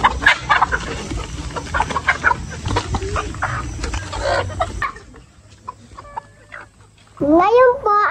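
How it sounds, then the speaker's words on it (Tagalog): Farmyard chickens being fed cluck busily and close by while people talk over them, and a louder, drawn-out crow or squawk breaks in near the end. "magpapatuka po ngayon ako ng manok"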